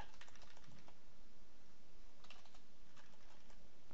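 Quiet, close clicks of keys on a computer keyboard as a folder name is typed in, with a few soft irregular keystroke bursts over a low background hiss.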